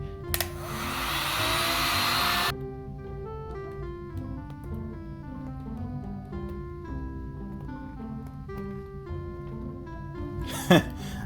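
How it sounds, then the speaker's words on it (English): A heat gun blows a loud, steady rushing roar onto a plastic Baby Alive doll head for about two seconds, then cuts off, leaving background music and a voice. "I'm going to use the heat gun on this plastic."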